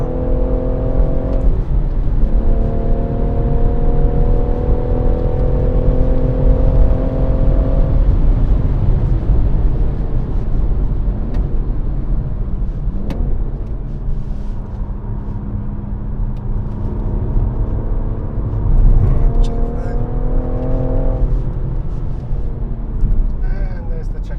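A BMW M140i races around the Goodwood circuit, its engine droning loud and steady inside the cabin with rising and falling pitch sweeps as it shifts through gears, continuous throughout.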